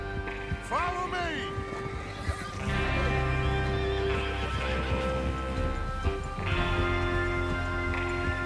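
Horses in the video game Red Dead Redemption 2: several loud whinnies and neighs over clip-clopping hooves, with a voice speaking in between.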